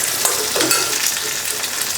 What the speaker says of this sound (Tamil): வெங்காயம் நல்லா வதங்கி வந்துச்சுங்க,